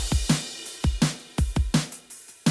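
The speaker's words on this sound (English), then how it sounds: "but altogether, those drums sound like this" A punchy double-time pop drum loop with deep kicks and snappy snares in a quick, steady pattern, played alone.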